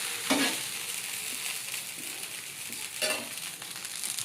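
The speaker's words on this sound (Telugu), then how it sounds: "దోశ అయితే వేస్తున్నాను అనమాట" Dosa batter cooks on a hot pan with a continuous bright sizzle and occasional soft scraping from a spatula, close and fairly loud, with no speech.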